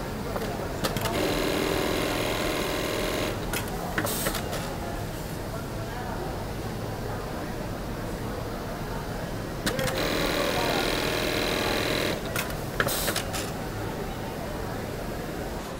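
Industrial sewing machine sewing keyholes on jeans on a factory floor, whirring in bursts of a few seconds with pauses between, amid steady machinery hum while a person talks.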